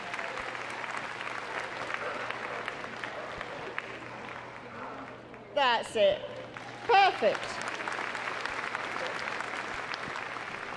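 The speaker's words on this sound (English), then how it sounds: "let's give him a big round of applause as he goes around" Audience applause rolls on steadily at a Crufts 2014 rescue dog agility show, a broad continuous clapping bed while a nearby voice calls out briefly midway.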